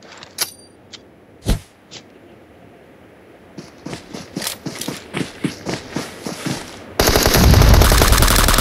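Gunfire in PUBG Mobile: a few isolated sharp shots, then a rapid run of repeated bursts, ending in a loud dense rush of noise, close and loud with no talk.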